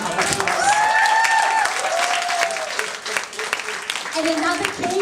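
Sustained audience applause at an awards ceremony, dense clapping with a few whoops and cheers over it, loud and continuous throughout.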